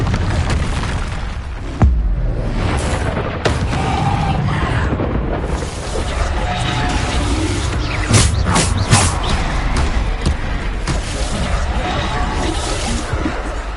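Bombarda spell explosions in Hogwarts Legacy: dense, loud rumbling booms and bursts running almost continuously, with sharper blasts standing out in the busy game mix.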